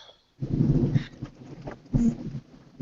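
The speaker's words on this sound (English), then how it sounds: "Another nice lightning bolt there." Thunder from a lightning bolt during a storm rumbles in two heavy bursts, a deep, rolling crack near the start and another about a second and a half later, fading between.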